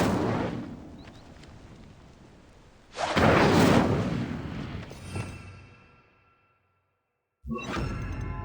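The Incendio fire spell cast in Hogwarts Legacy, a loud roaring whoosh of flame that swells and bursts, then trails off, followed after a short silence by another fiery blast.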